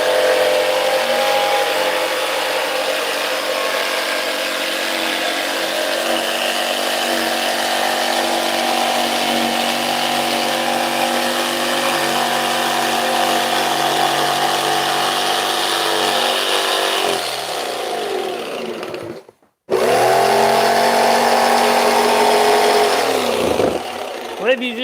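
A jigsaw cuts wood for a model build, a loud continuous buzzing drone that holds steady for nearly twenty seconds, drops out briefly, then starts up again before stopping.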